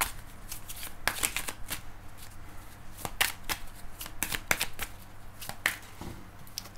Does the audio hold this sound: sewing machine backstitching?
no